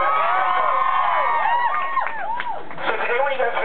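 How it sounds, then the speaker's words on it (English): A crowd of walkers outdoors in the rain cheers and whoops in a dense, continuous wash of shouting voices, with children's cries rising above the noise for a few seconds. "So a lot of applause for your amazing selves for walking in the rain."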